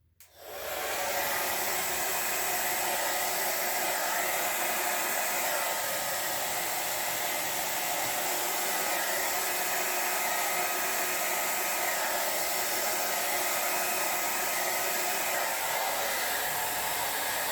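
Steady, loud rush of blown air, like a hair dryer or heat gun, passing over poured epoxy resin art for the whole stretch after a brief quiet start, with no talking.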